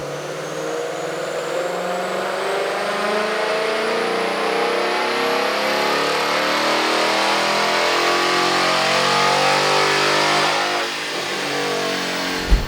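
A 2022 Ford Mustang GT with a Gen 3 Coyote V8 on a chassis dyno in a seventh-gear pull, a loud, close engine drone that climbs steadily in pitch for about eleven seconds before dropping off sharply.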